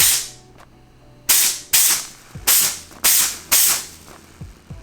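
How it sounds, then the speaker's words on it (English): A steam cleaner fires repeated blasts of hissing steam at a dirty hammered gold ring, six sharp bursts, each loud at onset and tapering off, with short pauses between them and no talking. "it's almost like when you iron something and have the steam on"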